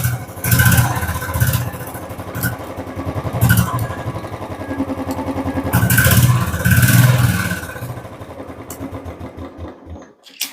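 A Royal Enfield Bullet motorcycle starts on a fully charged battery, and its engine then runs with a loud, thumping, uneven beat. Revs rise and fall in surges before the noise fades out near the end.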